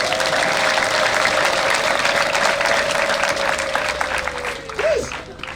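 A church congregation breaking into loud, sustained applause, a dense wash of clapping that holds steady for several seconds before thinning out, with a faint tone running beneath it.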